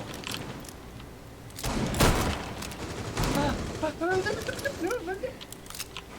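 Video game gunfire striking the player: a burst of rapid shots and sharp impact cracks, followed by metallic pinging ricochets, heard up close in the game mix.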